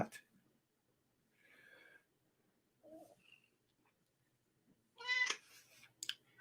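A house cat meows a few times, short separate cries spaced across several seconds, close and fairly clear, with one louder, longer meow near the end over a quiet room.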